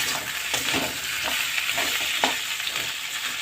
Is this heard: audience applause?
no